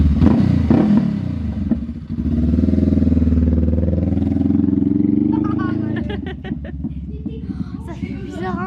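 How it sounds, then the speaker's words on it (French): A motorcycle starts and its engine settles into a steady, loud running drone, with people talking over it near the start and end. "Quand la moto elle démarre"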